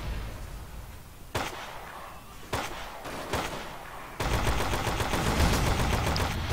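Gunfire in the World War II shooter game Forgotten Hope 2 on the Meuse River map: a few separate sharp shots, then a dense, continuous roar of firing and battle noise.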